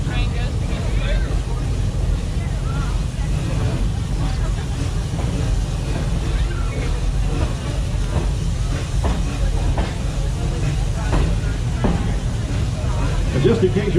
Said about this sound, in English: we are being pulled around by a fully operational steam engine